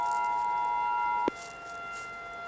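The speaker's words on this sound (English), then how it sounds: "Another volcano warning, and we got more sirens!" A civil defense siren sounds a volcano warning, a steady sustained tone that cuts off abruptly midway, followed by a brief click and low noise.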